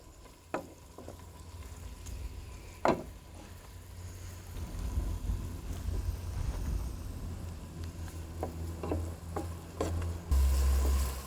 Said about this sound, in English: You keep stirring a bit to make it cook evenly.